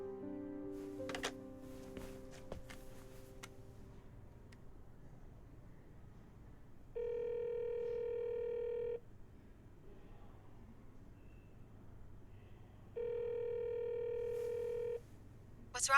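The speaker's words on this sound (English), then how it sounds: "I'll call her cell phone." Cell phone call ringback: two long, steady electronic tones, each about two seconds, separated by a pause, following a few brief beeps at the start, fairly quiet and close, with no speech.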